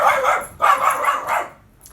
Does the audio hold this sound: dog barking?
yes